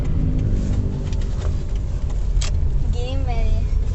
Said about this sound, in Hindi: इतने सारे वो जा रहे हैं बाइक पे